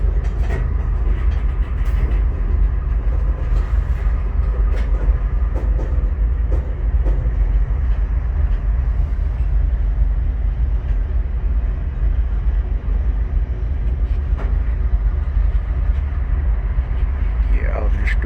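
A BNSF freight train rolls along the rails past a track switch, a loud, steady rumble with scattered clicks and clanks from the wheels, continuous throughout with no voices over it.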